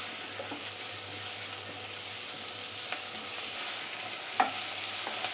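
Chopped tomato sautés with ginger and garlic in a pan, making a steady, fairly loud hissing sizzle with occasional soft stirring clicks and no voices.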